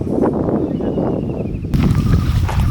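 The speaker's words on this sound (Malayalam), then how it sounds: "നല്ല കാറ്റുണ്ട്" Strong wind buffets the microphone in a dense forest in gusty low rumbles, with a sudden louder burst of blustery noise in the second half.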